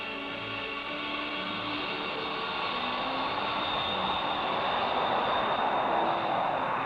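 A B-52 Stratofortress bomber's jet engines give off a steady, loud, broad roar that slowly swells in strength as it powers up for takeoff, with no speech over it.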